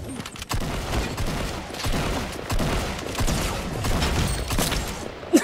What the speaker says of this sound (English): It's a blue hunting rifle.